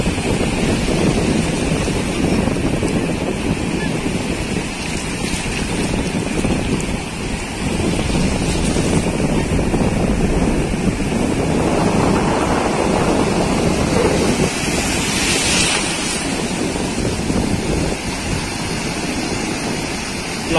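Sea waves wash steadily onto a clean sandy beach, a continuous broadband roar with wind, swelling in a couple of surges, loud and close, with no talking.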